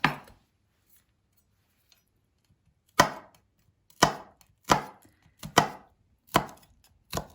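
A large garlic clove is chopped with a knife on a board, six or seven crisp, close knocks spaced irregularly after a quiet pause, each one short and clean against silence.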